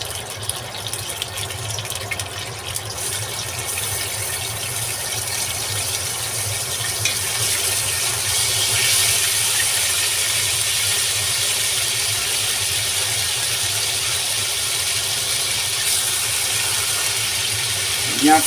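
Rabbit pieces brown in melted lard in a cast-iron cocotte, a constant close hiss and sizzle that stays steady throughout and rises slightly after the first few seconds.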